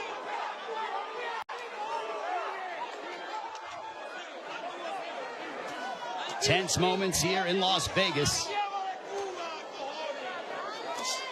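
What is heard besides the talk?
boxing arena crowd in Las Vegas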